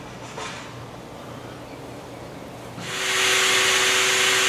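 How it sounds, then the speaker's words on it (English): A bee vacuum sucks up bees during a live bee removal. Quiet rumble comes first, then the machine swells to a loud, steady, airy roar partway through. "We're gonna vacuum some bees and get some numbers down"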